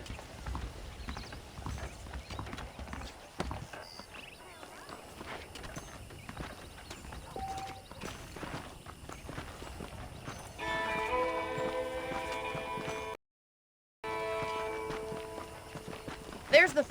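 Horse hooves clip-clop steadily at walking pace in Red Dead Redemption, close and even, while someone talks over them.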